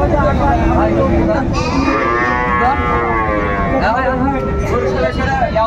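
Cattle at a rural livestock market in Bangladesh low and moo repeatedly amid a steady crowd hubbub, with people talking close by throughout.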